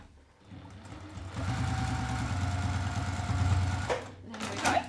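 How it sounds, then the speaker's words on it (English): A sewing machine bastes pockets in place on a handmade sling bag, whirring in one steady, close run of a few seconds before stopping with a brief clunk. "So we just kind of baste these in place."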